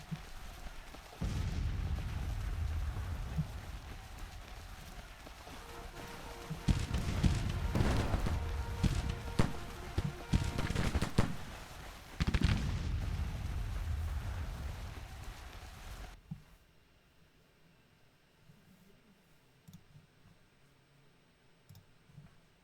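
Musket volleys and booming artillery fire from Grand Tactician: The Civil War, a dense run of cracks and rumbling blasts that swells and pulses for about sixteen seconds and then drops to a faint, quiet bed.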